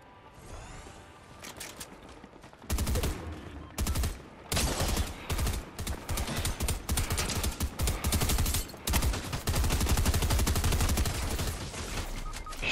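Dense bursts of gunfire in a Fortnite match, loud and nearly continuous for most of the stretch with short gaps, rapid shots overlapping into sustained volleys.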